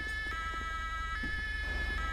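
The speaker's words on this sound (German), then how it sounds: "Dann könnt ihr mal die Sirene mal wieder ausmachen." An emergency vehicle siren in GTA V with the LSPDFR police mod sounds as a continuous, steady, loud wail over a low engine hum, with no pauses.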